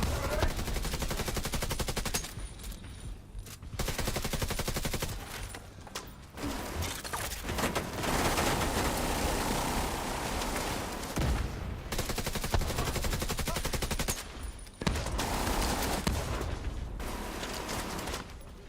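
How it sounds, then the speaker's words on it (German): Dense automatic gunfire in The Division 2, loud rapid bursts from close range with brief pauses between volleys, near-continuous throughout and heard without speech. "Schießt der da durch die Wand durch, oder was?"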